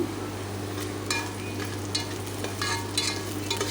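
Chopped onion, curry leaves and garlic cloves frying in oil with browning urad dal, a close, steady sizzle broken by repeated scraping stirs of a spoon against the pan, over a low electrical hum.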